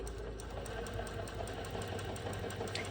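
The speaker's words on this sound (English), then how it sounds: "So I'm just going to take each one of these and I'm just going to chain stitch these through." Sewing machine chain stitching quilt block pieces along a diagonal line for a sawtooth star block, a steady continuous motor hum running evenly throughout with no talk.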